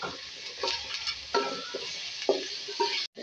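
Ginger paste fries in a pan with a constant close hiss, broken by several soft scraping stirs of a spoon at irregular moments and a brief drop near the end.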